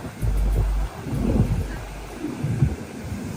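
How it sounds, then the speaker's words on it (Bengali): Sea wind blows at the beach shore in Puri, buffeting the microphone in low, rumbling gusts that are strongest at first and then ease into a softer, uneven roar. "এই যে আমরা এসে পৌঁছালাম সমুদ্রের পাড়ে, দারুণ হাওয়া দিচ্ছে।"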